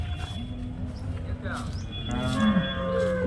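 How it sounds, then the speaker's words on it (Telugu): Cows and calves low at a busy cattle market in Punganur, a few drawn-out moos close by over crowd murmur and voices talking. "ఆవులు దూడలు అన్నీ ఉన్నాయి"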